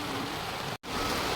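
Steady rain falls in a dense, even hiss with no voices, broken only by one abrupt cut to silence partway through before the downpour resumes.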